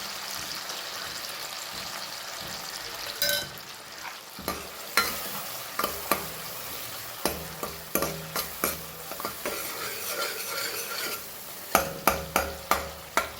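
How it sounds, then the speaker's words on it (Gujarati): Crushed garlic frying in a pan of oil for vaghareli khichdi, a continuous sizzle broken by a run of rhythmic scraping stirs that grow more frequent toward the end, close up. "હવે આપણે એમાં વાટેલું લસણ એડ કરીશું."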